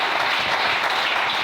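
A church congregation breaks into sustained applause to acclaim the Lord, a dense, even wash of many hands clapping throughout, close and loud, with no talking over it.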